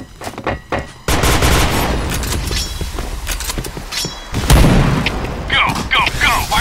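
Grenade blast and rapid gunfire in the Indonesian online shooter Point Blank, loud and dense across the clip, with a heavy burst near the middle and scattered crackling shots after it; game voices call out over the action.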